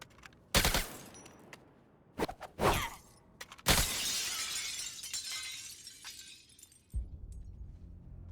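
Glass shatters loudly several times in the Suicide Squad Kill the Justice League video game, sharp crashes followed by a long tinkling spray of falling shards, with a low rumble underneath near the end.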